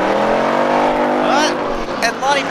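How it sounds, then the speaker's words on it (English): Race cars roar steadily around an oval track at a grand opening event, engines droning loud and continuous with rising and falling pitch as they pass, under an announcer's running commentary. "Lonnie Baker going deep into corner 4 again"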